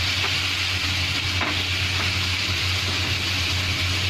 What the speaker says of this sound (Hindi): अब इसमें हम टमाटर डालेंगे, अच्छे से मिक्स करेंगे